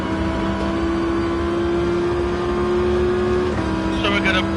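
A race car engine in a racing video game holds a steady, high drone close up as it accelerates, with a slight shift in pitch partway through, while someone talks over it.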